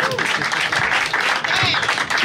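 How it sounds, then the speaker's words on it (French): Audience applause at a music showcase in Paris: dense, continuous clapping from a crowd that fills the whole stretch at a steady, fairly loud level. "On peut applaudir pour Tintin"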